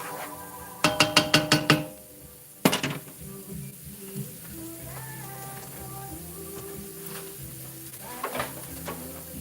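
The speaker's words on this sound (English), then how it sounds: "Just gonna let this saute." Chili ingredients sautéing in a pan: a quick run of about five metallic taps from a utensil on the pan, then one harder knock, followed by a soft ongoing sizzle with faint clinks.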